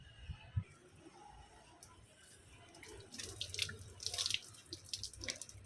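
Gentle trickling and splashing water poured over plant leaves, growing busier and louder partway through, with scattered drips, close by and without voices.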